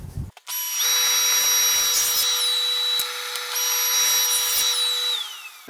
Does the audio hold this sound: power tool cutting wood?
yes